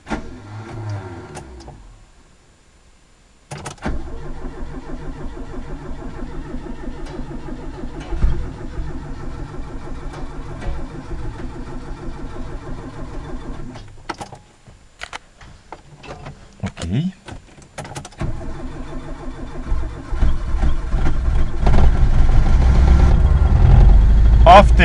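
Car running on LPG starts after two and a half months parked outside in snow without being started: clicks and whirring, then the engine catches and idles, growing louder toward the end, with a person talking.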